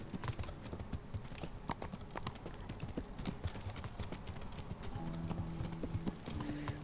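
Horse hooves clip-clopping in a steady rapid rhythm while riding in Kingdom Come: Deliverance, continuous and fairly close, with faint clicks and a low tone entering late.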